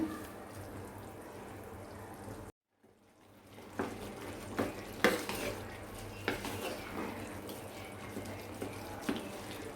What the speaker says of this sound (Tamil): இப்போ இதெல்லாம் நல்லா கலக்கி விடலாம்.